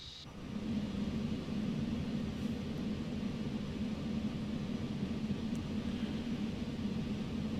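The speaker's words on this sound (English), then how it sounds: "Landing gear coming down. It is coming down beautifully." Concorde landing gear lowers in Microsoft Flight Simulator 2020, heard as a brief mechanical clunk followed by a steady low rumble and airflow roar inside the aircraft, fairly faint and continuous, with no voices.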